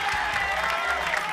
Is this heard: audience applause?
yes